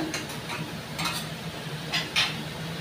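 Potato and onion frying in a wok while being stirred: a continuous soft sizzle broken by several scraping strokes of the spatula against the pan, close up and with no voices.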